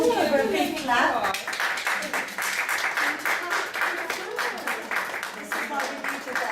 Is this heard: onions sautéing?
no